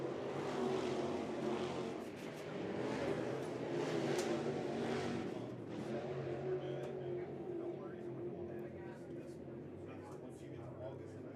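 Lucas Oil Late Model race cars on track at Golden Isles Speedway, engines droning steadily with passing swells from mid-distance, heard beneath a commentator's talk.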